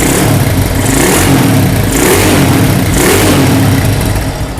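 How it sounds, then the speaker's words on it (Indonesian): An older Honda GL Pro motorcycle with a new original exhaust revs loudly and close by, rising and falling in three or four throaty surges over a rumbling idle. "Suaranya knalpot GL Pro tahun lama itu kayak gimana."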